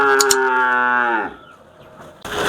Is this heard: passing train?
no